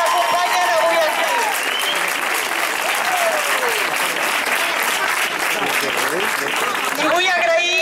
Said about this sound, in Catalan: Un fort aplaudiment per totes aquestes colles que ens acompanyen avui aquí